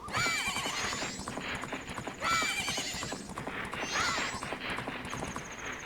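Repeated horse neighs with steady clip-clopping hooves underneath, a loud, synthetic-sounding loop with the whinny recurring about every two seconds.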